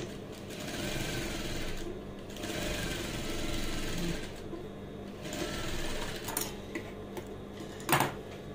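An electric sewing machine runs basting stitches through dress fabric, its motor whirring in several quiet bursts with short stops between runs and a small clack near the end.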